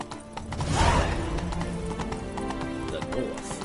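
Roach, Geralt's horse in The Witcher 3, gallops in rapid, rhythmic hoofbeats, close and steady, with a voice speaking briefly over the running.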